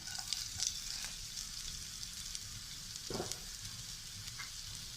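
Chopped ginger sizzles in hot oil for dal fry, making a steady crackling hiss close by with a few brief stirring scrapes, at a moderate level and without speech.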